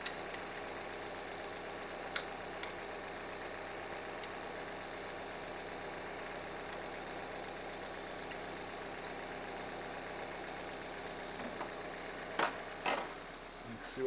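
A Mazda Miata 1.6 engine idles at about 960 RPM with a steady low hum and faint ticking, interrupted by a few sharp clicks from work nearby, over roughly fourteen seconds.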